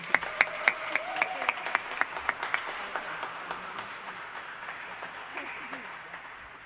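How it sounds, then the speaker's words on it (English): At a Diwali celebration in a chapel, an audience claps, starting with sharp, distinct claps that quickly merge into applause and then gradually fade away. "Let's give them a round of applause."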